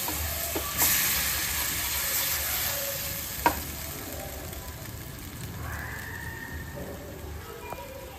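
Milk is being stirred into nacho sauce in a pan, a steady soft sizzle and scraping stir with a sharp clink from the utensil partway through, close and moderately quiet with no talking.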